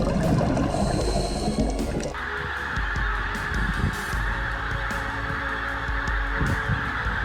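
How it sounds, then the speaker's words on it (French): Migrating wild birds, likely geese, honk continuously over a windy outdoor backdrop, a dense repeated chorus of calls at moderate distance. "c'est aussi le moment d'assister aux grandes migrations des oiseaux sauvages"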